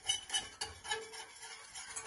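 Starch and sugar are whisked quickly in a pot, giving a quiet, rapid series of light scraping clicks in an even rhythm, close and soft.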